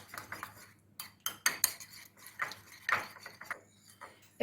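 A utensil whisks yogurt and egg yolk in a bowl, making quick rhythmic clinks and taps against the dish, close and fairly quiet, with no talking.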